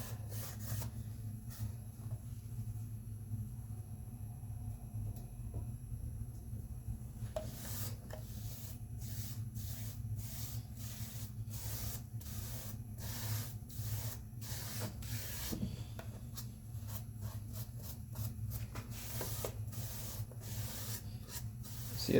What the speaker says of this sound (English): What I just did there was I'm wiping the top and the bottom